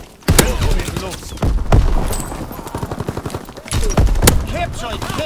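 Rapid machine-gun bursts from an enemy strafing run in a WW2 video game, loud and close, punctuated by sharp impacts, with shouted game voice lines over the fire.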